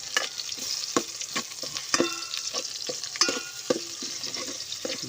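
Oil sizzles steadily as chopped onion and garlic fry, with scattered stirring scrapes and clicks throughout, close and fairly loud with no talking.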